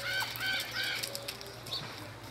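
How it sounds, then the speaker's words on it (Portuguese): Chickens on a farm clucking and calling in a few short, harmonic bursts, fairly near, over steady low background hum. "E as galinhas da tia estão aqui, ó."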